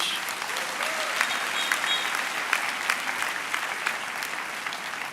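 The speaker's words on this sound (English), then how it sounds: "So let us give our guest speaker, Hosho Zephyrin, a rounding applause for that great message" An audience at a university graduation ceremony applauds a guest speaker, a continuous, dense wash of many hands clapping in a large hall, evenly sustained throughout.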